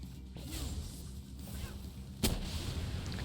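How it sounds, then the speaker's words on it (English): A rocket launcher fires in the video game Palworld with a sudden loud boom that stands out over steady in-game background noise. "See what this rocket launcher does."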